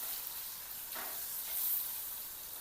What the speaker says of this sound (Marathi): मसाल्याला परतून घ्यायचं, छान भाजायचे मसाले तेल सुटेपर्यंत।